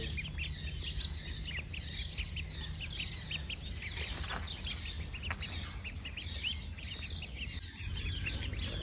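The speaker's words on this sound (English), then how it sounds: "This is a duck." Baby ducklings peep in a steady stream of high, rapid chirps, close and fairly loud over a low background hum, with no talking.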